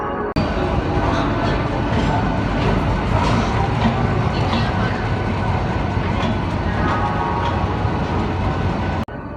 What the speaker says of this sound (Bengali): কলকাতায় চারটে চল্লিশ নির্ধারিত সময়ে আমতা লোকাল হাওড়া স্টেশন ছেড়ে বেরিয়ে যাচ্ছে